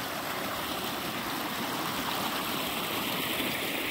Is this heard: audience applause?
no